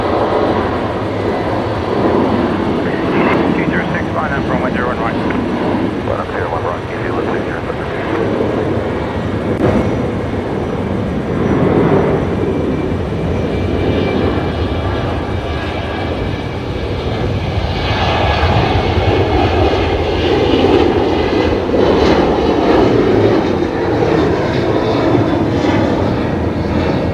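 An airliner lines up and takes off from runway 01 right at Brisbane Airport at night, a steady broadband jet engine roar that holds loud throughout and swells further toward the end.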